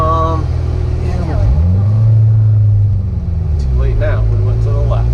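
Corvette C7 Z06 V8 engine with stock factory exhaust rising and falling in a deep rev, heard from inside the car under loud conversation.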